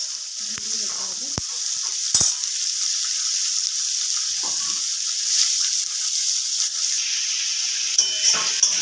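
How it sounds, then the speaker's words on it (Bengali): Carrot, capsicum and beans fry together for homemade chow mein, giving a loud, steady hiss of sizzling oil with a few scraping stirs near the start and end. "গাজর, ক্যাপসিকাম এবং বিনসগুলো সব একসঙ্গে দিয়ে দেবো। করে ভালোভাবে ভেজে নিতে হবে।"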